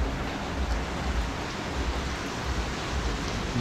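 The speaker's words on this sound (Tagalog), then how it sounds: "Sakto, ayan, pag-uwi ko, bumuhos yung ulan." Heavy rain pours down in a steady, dense hiss that stays loud and even throughout, with no talk.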